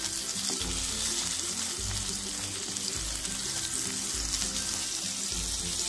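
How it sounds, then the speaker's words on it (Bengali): Pointed gourd pieces fry in oil in a pan with a loud, constant sizzle and crackle, close up, without any talking. "পটলগুলো উল্টে আরেকটা সাইড ভেজে নিতে হবে।"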